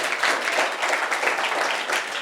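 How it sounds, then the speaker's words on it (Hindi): Loud, dense applause from an audience at a gathering in a Buddhist vihara in Rajnandgaon, a continuous close wash of clapping with no pauses. "जोरदार तालियां"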